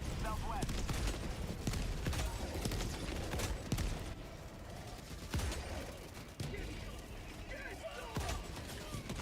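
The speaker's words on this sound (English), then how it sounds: "the minigun just tearing them all apart" A minigun firing in the co-op shooter Helldivers 2, sustained muffled gunfire with scattered heavier thumps under a continuous mix of game noise, while a voice talks over it.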